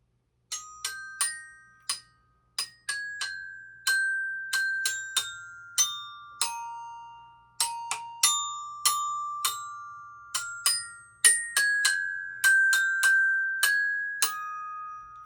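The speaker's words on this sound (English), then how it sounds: "Just a simple little bell kit." A small bell kit, a glockenspiel-like set of metal bars, plays a simple slow melody alone, each struck note ringing bright and clear and decaying before the next.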